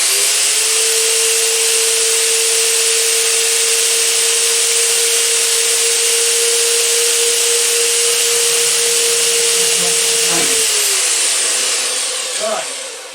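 A Lidl Parkside PMB1100 metal cutting bandsaw runs with a steady high whine and broad hiss for about ten seconds, then winds down near the end with a few knocks.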